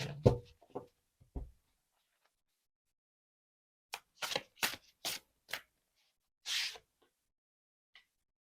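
Soft papery riffling of tarot cards being shuffled in short bursts with pauses between, quiet and close, with a few faint shuffles at the start and several more later.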